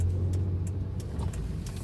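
A 2006 Honda Accord V6 on the move, steady road and engine noise with a continuous low drone throughout and no talking.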